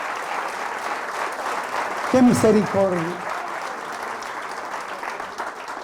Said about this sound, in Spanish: Fuertes aplausos al Rey de Reyes, del Señor de Señores.